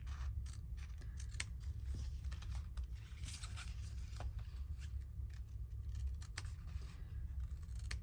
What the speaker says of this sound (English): And then you can just go across and snip from corner to corner.